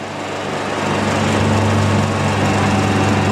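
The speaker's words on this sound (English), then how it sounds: "That lift's just too loud to actually hear if the rust is falling through" A car lift lifts a Mk2 Volkswagen Golf GTI in a workshop, its loud steady motor drone rising slightly as it runs and filling the whole stretch with no voices.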